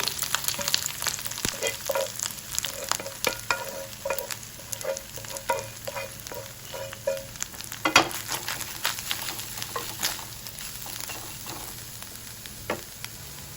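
Ground, pre-fried bitter gourd stirred in a hot pan, with steady frying sizzle and repeated scraping strokes of a spoon against the pan, close and continuous with no talk.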